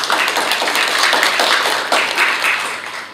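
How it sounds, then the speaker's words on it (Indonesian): An audience at a formal gathering with local officials and an NGO bursts into clapping, a loud, dense round of applause that swells and holds steady without speech over it. "Presidennya ini tepuk tangan dulu untuk Wahana Visi."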